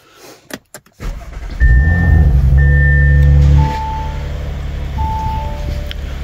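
A 2018 Audi RS5 engine cranks and fires after a few clicks and thumps, flaring to a loud rev before settling into a steady, lower warm-up idle, with faint electronic chimes on top.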